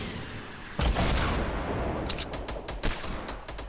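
Gunfire in the Fortnite Battle Royale video game: a heavy blast opens into sustained loud shooting, then a burst of sharp rapid shots follows, with no talk over it.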